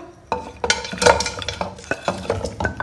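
Boiled mutton being lightly fried in oil for mutton karahi: a spoon scrapes and stirs against the pot in uneven bursts over a low background sizzle, close and fairly loud, with no voices.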